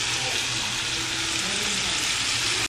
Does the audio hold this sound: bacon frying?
yes